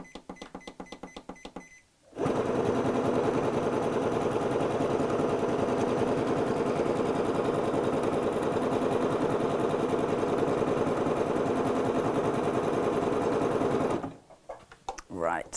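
Butterick Signature EB6100 sewing machine running steadily while stitching decorative stitches, a continuous close, loud mechanical whirr for about twelve seconds, with brief quieter clicks and handling noises before and after.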